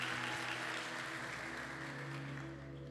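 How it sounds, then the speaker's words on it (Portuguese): Church audience applauding an assistant during a pastor's sermon, a faint, distant wash of clapping that slowly fades over a few seconds. "Salva de palmas para essa assistente."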